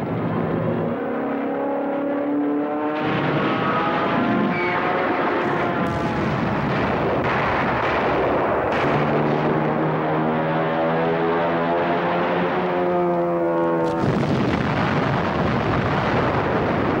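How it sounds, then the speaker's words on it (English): Anti-aircraft fire and explosions around the aircraft carrier Yorktown during the Battle of Midway, a loud, continuous barrage of blasts and booms mixed with droning aircraft engines that rise and fall, with sharp bursts punctuating the din. "they are met with fierce resistance by American fighter planes and anti-aircraft fire."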